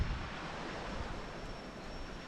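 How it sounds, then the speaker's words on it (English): Waves surging against rocks and a small pebbly beach at Santa Ponsa, Mallorca, a steady wash of surf heard from above, moderately faint and continuous with some wind. "So those are the waves we could hear crashing against the little pebbly beach down there."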